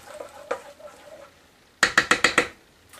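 Cucumber salad with scallions is stirred in a bowl: soft scraping and light clinks at first, then five quick, crisp knocks of a utensil against the bowl in a rapid row, close and alone without talk.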